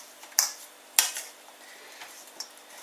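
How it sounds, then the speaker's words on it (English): Rice salad being stirred in a bowl, with a couple of sharp utensil clinks against the bowl and softer scraping in between, fairly quiet and close with no talking. "So just gonna mix that in."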